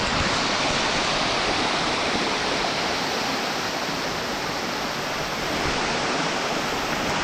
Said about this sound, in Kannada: ಈ ಫಾಲ್ಸಲ್ಲಿ ನೀರಿದೆಯಂತೆ, ಕೇಳಿಸ್ತಾ ಇದೆ ನೀರು ಸೌಂಡ್.